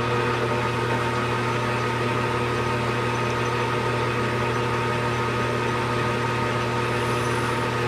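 A metal lathe cutting with a carbide insert at 460 RPM, taking a 10 thou pass: a steady, continuous mechanical hum with a constant drone and no break, fairly quiet and alone.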